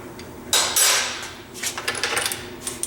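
A metal lathe tailstock is backed off, giving a loud metallic clank and scrape followed by a series of lighter clicking and rattling knocks.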